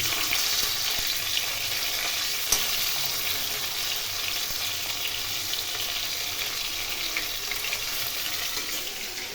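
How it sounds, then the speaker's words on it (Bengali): Fish pieces fry in a pan with a dense, steady crackling hiss that continues evenly throughout, broken by a single sharp tick early on. "মাছগুলো প্রথমে ভেজে নিচ্ছি"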